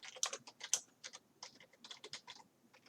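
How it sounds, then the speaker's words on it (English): Rapid typing on a computer keyboard, with a steady run of sharp, close key clicks in an irregular rhythm and no voices over it. "No, I'm looking at this typing."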